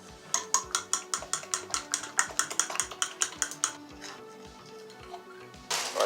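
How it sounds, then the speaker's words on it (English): Breakfast bake ingredients are stirred in a bowl, a quick run of about twenty sharp, regular clinks and scrapes at close range, then a pause and a brief burst of rustling noise at the end. "And we shall mix it."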